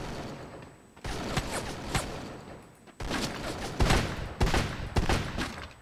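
Rapid bursts of Free Fire gunfire, dense volleys of shots with loud peaks, rattling on and off throughout.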